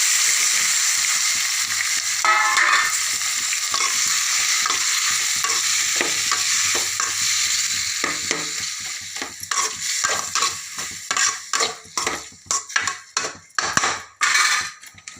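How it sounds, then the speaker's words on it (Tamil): Onion and garlic fry in a pan for tomato thokku, with steady close sizzling under repeated stirring, the scraping strokes growing sharper and more distinct toward the end. "வெங்காயம் பூண்டு எல்லாமே ஓரளவுக்கு ரெடி ஆகிடுச்சு."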